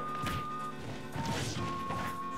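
Forward smash attack landing in a Super Smash Bros video game, a sharp crash-like hit mixed into busy game sound effects and a steady tone, fairly quiet.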